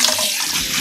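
Tap water runs steadily into a sink while sorrel is rinsed for a Caribbean sorrel drink, a brief broadband splashing rush with no voices.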